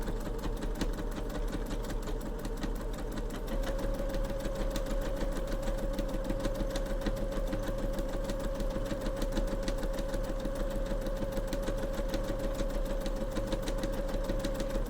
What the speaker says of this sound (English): I'm going to go a couple of stitches, and then I'm going to back stitch